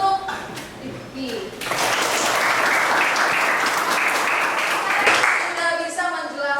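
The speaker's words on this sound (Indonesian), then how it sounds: "beri aplaus untuk Rifki" An audience applauds a student named Rifki in a classroom, a burst of steady clapping starting after a brief murmur of voices and continuing loudly for several seconds before tapering off.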